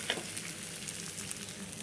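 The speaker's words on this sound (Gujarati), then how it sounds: "અને લીંબુનો રસ નાખીને થોડું આપણે હલાવી લઈશું।" Sabudana khichdi being stirred in a pan after lemon juice is added, giving a steady soft sizzle with light scraping and stirring noises, moderately close and quiet, no talking.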